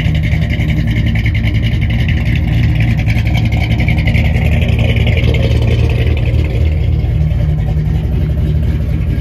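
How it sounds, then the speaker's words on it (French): A 1964 Mercury Marauder coupe runs with its remote-controlled open exhaust, giving a loud, close, continuous rumbling engine note with slight revving and no talking. "la télécommande permet d'avoir un échappement libre."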